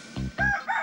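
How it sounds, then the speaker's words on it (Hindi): A rooster crows in a short, loud cock-a-doodle-doo burst, close and clear with no talk over it. "वो रहा आपका मुर्गा।"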